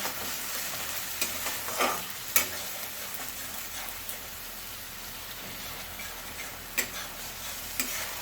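Spices frying briefly in hot oil for a simple tilapia fish curry, giving a steady soft sizzle with scattered faint ticks and pops and a few louder crackles, no talking.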